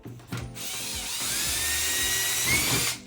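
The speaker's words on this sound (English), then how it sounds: "drill a pilot hole, one of the corners" A small electric drill whirs steadily at high pitch for a couple of seconds, boring a pilot hole in the corner of a template cutout, starting after a few clicks and stopping abruptly, close up.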